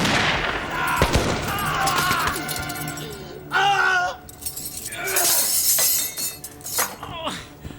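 Period naval battle gunfire from a 1999 Hornblower drama: sharp bursts of shots mixed with shattering, clattering debris and shouting voices, loud and close, in chaotic waves.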